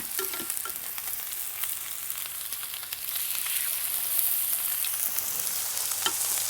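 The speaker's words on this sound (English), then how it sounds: "That sizzle, that's what you want to hear." Chicken pieces sizzle and fry in a very hot pan for blackening, a steady loud crackling hiss that holds throughout with small pops and stirring noises, no voices.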